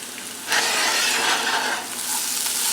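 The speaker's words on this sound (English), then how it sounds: "it says stir it until the onions are brown, about 5 minutes in" Onions with cayenne and cinnamon frying in a pan for samosas give a steady, close sizzle, with a brighter surge of hissing as the mixture is stirred partway through.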